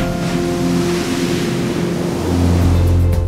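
Pacific Ocean waves wash onto the beach at Garrapata State Park along the Big Sur coast, a steady broadband rush of surf under a low tonal hum that swells slightly louder near the end.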